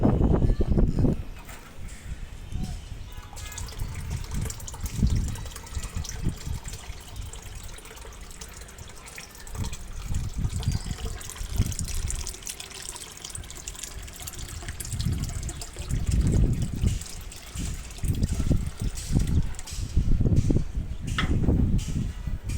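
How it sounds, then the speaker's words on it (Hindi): Water poured out for birds in intermittent splashing bursts, gushing and trickling with pauses between, close and fairly loud against a steady background hiss. "तो मैं भी पानी देता हूँ परिंदों को।"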